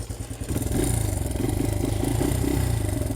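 A dirt bike engine catches after a kick start and settles into a steady, close, throbbing idle with a rapid mechanical clatter, loud and alone after a rougher first half-second.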